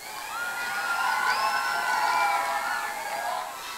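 A crowd at a Grand Illumination holiday ceremony cheers and shouts in a sustained, lively swell, with whoops rising over the din and no distinct clapping standing out.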